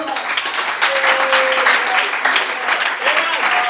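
A church congregation applauds and cheers in praise of the Lord, a dense, loud wash of clapping running steadily throughout, with voices and a sustained singing or organ-like tone underneath.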